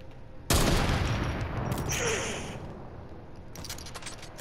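In a video game shooter, a sudden loud burst of gunfire erupts, then rumbles and rattles on with scattered sharp shots trailing off.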